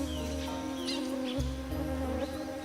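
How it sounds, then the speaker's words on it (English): Male orchid bees hover around a bucket orchid in the Colombian forest, producing a faint, continuous insect buzz over low ambient forest noise. "Luring in male orchid bees from as far as 30 miles away."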